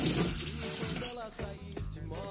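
Tap water runs steadily into a container while gel soap is being made, a continuous splashing wash with faint background talk.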